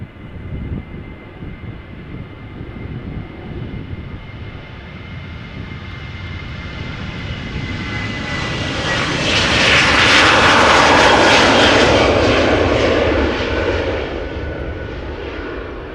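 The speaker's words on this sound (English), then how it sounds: "behind me the 737 to Göteborg is already spooling up and is already on the roll" A KLM Boeing 737-800 bound for Gothenburg spools up at Amsterdam Schiphol and rolls for takeoff, a loud jet roar swelling to a powerful peak before easing slightly as it moves off.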